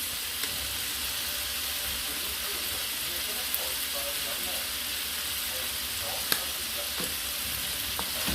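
Chicken and shrimp stir-fried in a hot pan with Szechuan seasoning and crushed red pepper flakes, giving a steady, dense sizzle throughout with a few faint utensil clicks and no voices.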